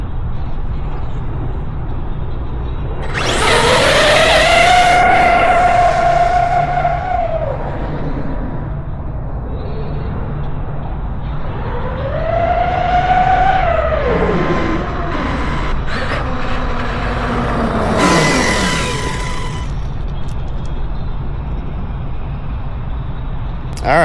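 Traxxas XRT and ARRMA Kraton 8S RC trucks drag race in passes, each run a loud rising electric motor whine that swells as a truck accelerates past, then fades, with repeated runs separated by quieter gaps.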